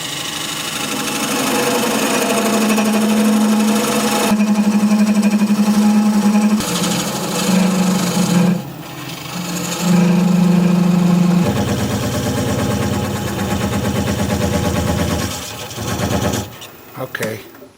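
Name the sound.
wood lathe spinning, thin parting tool cutting bowl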